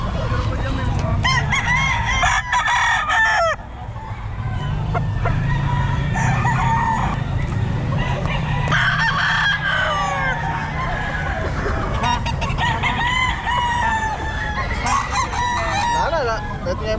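Roosters crow repeatedly and hens cluck amid the busy din of a pet market stall in Bocaue, with bird calls overlapping and voices talking in the background.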